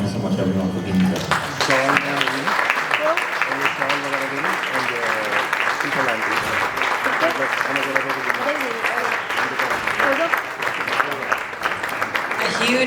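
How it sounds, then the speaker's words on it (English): Audience applause rolls on steadily for several seconds, loud and dense, with a voice talking over it throughout. "A huge round of applause once again, please."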